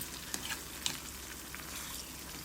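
White eggplant pieces cook softly in oil for a spicy curry, an even continuous sizzle with a couple of light stirring clicks, fairly quiet and with no voices.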